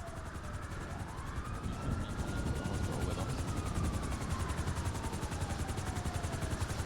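A helicopter in the GTA roleplay game NoPixel, a steady rotor thump and whine that drones on throughout, fairly loud and close, with a tone that rises and falls.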